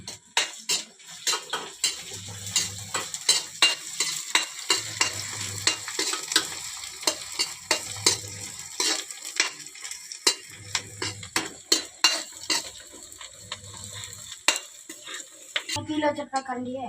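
Fish curry ingredients fry in a pan while a spoon stirs and scrapes against the metal. A steady sizzle runs throughout, with rhythmic clinks every few seconds and no voices.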